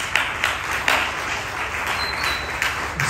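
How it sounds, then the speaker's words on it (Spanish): A church congregation applauds in a short, moderate burst of scattered clapping with a few sharper claps standing out. "dale un aplauso al Señor"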